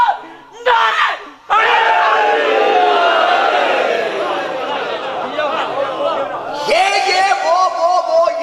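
A large religious gathering in Rawalpindi shouts slogans in unison, with loud massed voices rising in waves and holding steady, followed by a final surge of chanting near the end.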